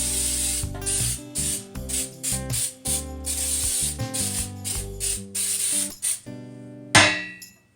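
Repeated bursts of non-stick baking spray with flour hiss in short rhythmic spurts with brief pauses, ending in a sharp clank and fading rattle.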